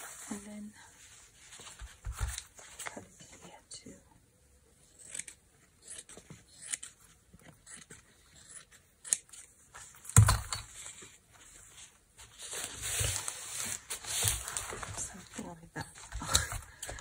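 Scissors snip through a piece of fabric being trimmed for eco printing, with scattered quiet cuts and rustling handled close by and fairly faint, at times under soft speech.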